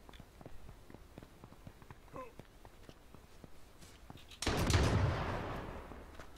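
A shotgun fires in a first-person shooter game, one loud close blast near the end that decays over about a second, after a stretch of faint game sounds and scattered light ticks.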